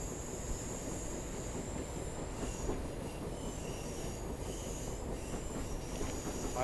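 A Class 150 diesel multiple unit runs steadily on the Bristol to Exeter line as it approaches a platform, with a continuous loud rumble of wheels on rail and faint high squeals throughout, and no talking.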